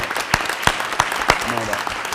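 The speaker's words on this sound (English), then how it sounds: "Give him a big round of applause." Room applause at a school board business meeting honoring a young district employee, a few sharp distinct claps standing out over a thin scattered patter, with a brief voice near the end.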